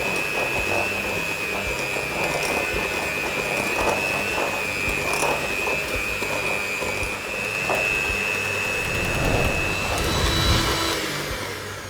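Electric hand mixer beating butter cream with icing sugar, a steady whirring motor hum running continuously throughout with faint clatter of beaters against the bowl.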